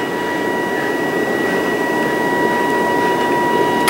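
Clean room fan filter units running at a steady RPM, giving a loud, even whoosh of moving air with a constant tonal hum, alone and unbroken throughout.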